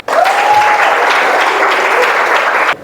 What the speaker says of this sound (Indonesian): Coba yang merasa sangat senang tepuk tangannya.